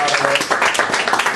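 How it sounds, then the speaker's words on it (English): An audience applauds for a man serving as a contractor in Afghanistan, a loud, close burst of clapping with a voice speaking over it. "Would y'all clap for him?"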